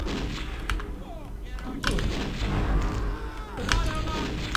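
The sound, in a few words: flare gun alt fire shots in video game Blood: Fresh Supply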